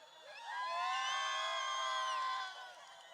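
A rally crowd at the DA Manifesto Launch 2026 cheers and whoops in a sustained, loud swell of high voices that builds, holds steady, then eases off near the end.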